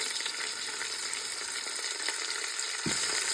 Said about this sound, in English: I'm just gonna braise this on both sides really quickly